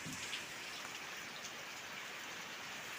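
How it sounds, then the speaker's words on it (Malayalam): Steady, dense rainfall pours down continuously, a heavy broadband hiss of rain striking surfaces with no pauses or voices. "കണ്ടോ, പെരും മഴയാണ്"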